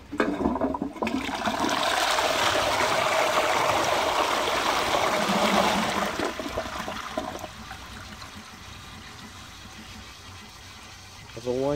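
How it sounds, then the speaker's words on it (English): A 1961 Twyfords Vitromant 330 turned-trap WC pan flushes with a loud rushing gush of water that holds for several seconds, then drops to a quieter trickle and refill. "As always, a wonderful flush."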